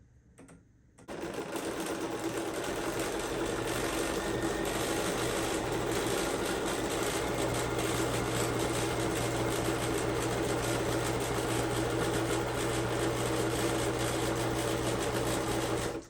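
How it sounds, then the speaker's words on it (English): Domestic sewing machine running a zigzag stitch along the edges of a fabric pillowcase, a steady fast mechanical whir that starts after a second of quiet and continues evenly without pause. "So I am now going to come back over my edges with a zigzag"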